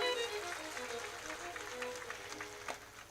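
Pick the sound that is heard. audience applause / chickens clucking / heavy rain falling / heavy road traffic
audience applause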